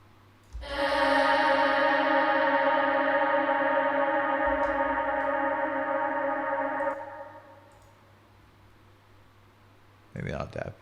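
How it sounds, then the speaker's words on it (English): A vocal drenched in a very large reverb in an Ableton progressive house production, one long sustained tone lasting about six seconds, then a washy tail fading to quiet before a short new sound near the end. "Okay, so we're just gonna quickly add a reverb here."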